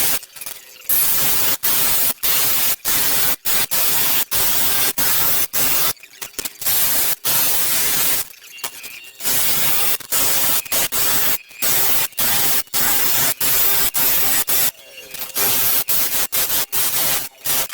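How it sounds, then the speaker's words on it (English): Thin straight strips of wood being sawn by hand for sled rails, a loud raspy noise that runs in long bursts broken by brief pauses, close up with no talking. "So we need to saw out straight pieces of wood"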